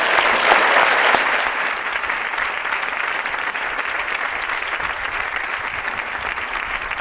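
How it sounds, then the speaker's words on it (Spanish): An audience at a business leaders' event applauds Mario Conde, a full round of dense clapping that starts loud and eases slightly but continues steadily to the end. "Un aplauso para don Mario Conde."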